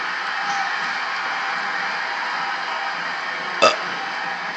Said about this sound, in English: I apologize for burping again.